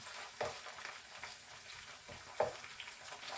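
Garlic and ginger paste frying with onion in a pan, a soft steady sizzle with a couple of sharper stirring scrapes, fairly quiet and with no talking.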